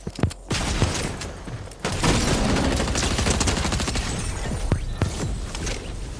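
Charge shotgun blasts in a video game ring out amid a dense, sustained barrage of gunfire, with sharp loud shots at the start and more cracks near the end, and no voices.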